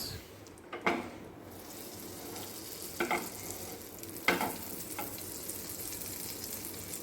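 Deshi ghee (pasteurized butter) heating in a pan, a steady soft sizzle with a few brief louder crackles and pops, close and fairly quiet, with no talking.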